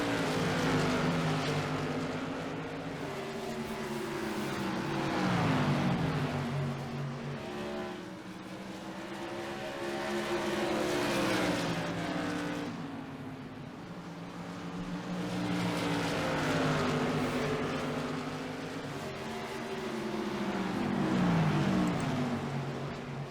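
Race cars circle Five Flags Speedway in single file during the Extra Life 300, engines swelling and fading in repeated waves as each pass goes by, loud and steady with no talk.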